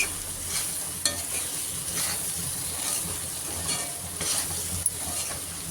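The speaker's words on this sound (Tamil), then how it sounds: "நல்லா அந்த எண்ணெயில் வதக்கணும்" Ingredients for paruppu urundai kulambu sautéed in oil, a steady close sizzle with stirring and occasional sharp clicks of the spoon against the pan, fairly quiet, with no talking.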